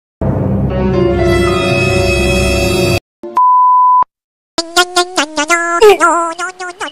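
A phone's electronic ring tone: a steady tone held for a few seconds, a short pure beep, then a choppy run of warbling melodic tones, loud and close with no speech over it.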